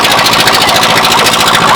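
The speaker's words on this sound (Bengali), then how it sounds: "আপনারা পিছনে দেখেন নৌকা স্টার্ট দিচ্ছে" An engine-powered boat starts at a landing in the Ratargul swamp in Sylhet, a loud, close, rapidly chugging motor that runs steadily with a harsh rattling throb.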